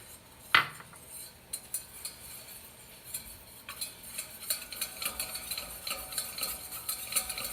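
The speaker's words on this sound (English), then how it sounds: "I'm going to add the rest of the flour and cook that down." Flour being stirred into melted butter in a pan, giving soft scraping and clinking of a utensil against the pan, with a sharper clink near the start and steady light stirring noise after, no voices.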